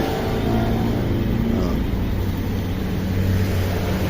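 Suzuki Burgman 125cc Fi scooter with its engine idling, a quiet, even low hum held steady and close for the whole stretch, with no talk over it.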